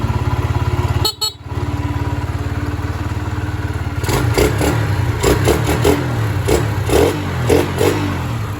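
A Honda Sonic 125 motorcycle idling steadily with an even, humming engine note, a brief dropout early on, then a run of sharp clattering knocks and bursts over the running engine, heard up close.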